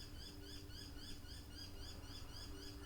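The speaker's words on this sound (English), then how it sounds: "Do you hear that bird?" A bird chirps outdoors, its short repeated tweets faint and fairly distant over a steady low background hum.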